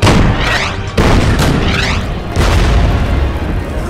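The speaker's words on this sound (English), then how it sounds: "How about we bombard this guy?" Heavy artillery bombardment in the WW2 strategy game Order of Battle: loud booming explosions land in quick succession, deep rumbling blasts with crackling tails, no talking.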